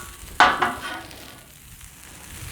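Vegetables and soba noodles from a Trader Joe's stir fry kit tossed on a Blackstone griddle: two sharp scraping, sizzling bursts near the start, then a low steady hiss fading under faint background noise.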